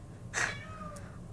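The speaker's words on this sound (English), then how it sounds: "My poor little cat just came in all wet because it's raining outside." A wet cat that has just come in from the rain gives a single clear meow, close and fairly loud over a faint background hum, followed by a softer trailing tone.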